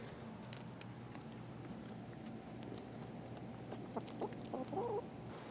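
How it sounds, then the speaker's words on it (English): Backyard chickens eating a watermelon treat give soft, scattered clucks and pecking taps, faint and close, growing busier toward the end over a low background hum. "We are actually going to give the chickens a little treat first."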